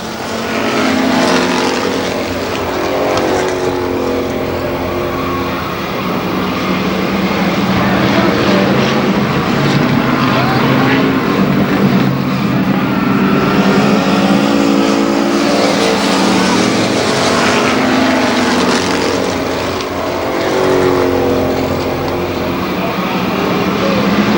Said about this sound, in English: Some wild action in the street stock heat race.